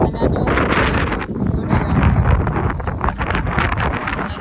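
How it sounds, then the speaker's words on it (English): Strong wind gusting through a garden with lilies and dahlias, a loud continuous roar and buffeting across the microphone, rising and falling throughout. "it's very windy"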